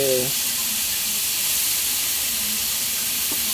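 Chayote pieces hitting a hot pot of chicken for tinola, giving a loud, steady sizzle and hiss of steam that continues evenly, with a brief voice at the start.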